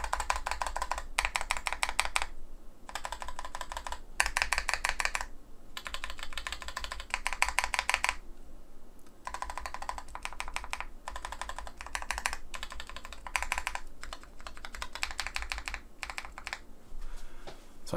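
Typing test on Kailh low-profile linear keyboard switches: bursts of quick, crisp, close key clacks in rapid runs separated by short pauses, with no talk.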